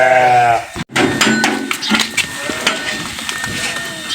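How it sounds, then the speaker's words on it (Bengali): Goats on a farm in Dammam, Saudi Arabia, give a loud, wavering bleat close by, followed by scattered farmyard noise and further animal calls. "সব ছাগল বাইরে গেল, ছাগল বাইরে যাচ্ছে দেখেন।"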